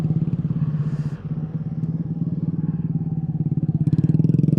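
Motorcycle riding over a rough, badly surfaced railway crossing on an alternative rural road, a steady close engine drone with bumpy clatter and rattles as the bike jolts across.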